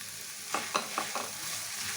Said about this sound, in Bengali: এবার আলু আর মাছটা মশলার সাথে ভালো করে মিশিয়ে নেব।